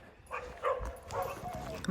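Dogs barking and yipping in a rural hillside setting, a few short, fairly faint barks and whimpers heard at a distance under a voice.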